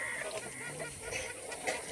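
A flock of desi country chickens in a farm pen gives faint, overlapping clucks and honking calls, continuous and somewhat distant.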